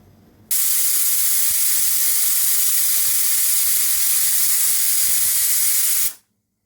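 A pressure cooker with mutton curry inside lets out a loud, steady hiss of escaping steam that cuts in abruptly, holds constant for about six seconds, then stops sharply.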